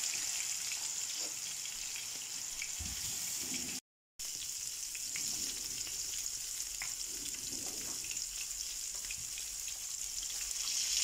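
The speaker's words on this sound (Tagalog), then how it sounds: "So ngayon, i-fry natin." Salmon seasoned with salt, pepper and olive oil fries in a pan, giving a steady, quiet sizzle with faint crackles and a short break partway through.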